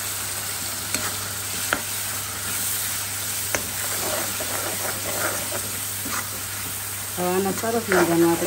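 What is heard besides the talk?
spices roasting in oil in a pan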